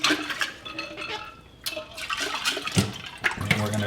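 Water sloshes and runs while cleaner is rinsed out of a clear lab flask over a sink, with splashy gurgling bursts and a brief drop in the middle.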